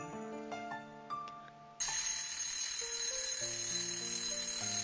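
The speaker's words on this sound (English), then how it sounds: "I stopped the alarm as usual." A bright electronic alarm in a video game rings loudly and continuously after a soft musical passage, its repeating melody carrying on alone with no talk.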